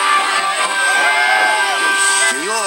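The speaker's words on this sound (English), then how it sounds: "They all cheered as Thomas pulled into the station." A crowd of children cheers and shouts loudly as Thomas the train pulls into a station, a dense, continuous mass of excited voices with rising whoops.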